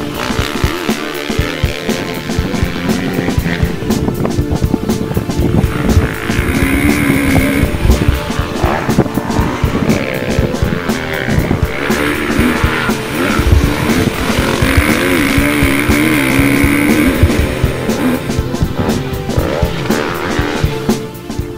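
A 2013 KTM SX-F four-stroke motocross bike engine, loud and close, revving and surging up and down through changing pitch with no speech over it.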